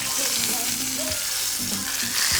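A steak fries in a pan, giving a loud, continuous close-up sizzle and crackle with a few soft shifting sounds and no talking.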